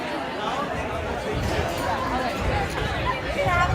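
A Brooklyn street crowd in Williamsburg on a busy autumn day fills the air with constant overlapping chatter, a loud, even hubbub of close voices throughout.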